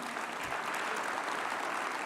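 Steady, dense applause from an audience at a youth conference closing ceremony, a continuous wash of clapping heard close and even throughout.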